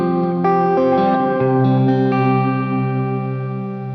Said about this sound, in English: And I remember using the modulated reverb here as well.